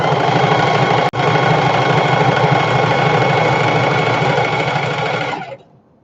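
A sewing machine stitches a shoulder bag in one loud, steady, close whirring run with a brief dropout near the start, then winds down and stops near the end.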